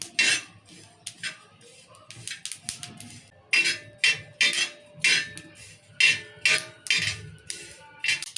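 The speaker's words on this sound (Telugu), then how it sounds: "చిటపాట్లు అంటున్నాయి నువ్వులు" Sesame seeds roast in a pan for a village-style tomato and green chilli pounded chutney, crackling with rapid, irregular sharp pops and clicks that sound close and fairly loud.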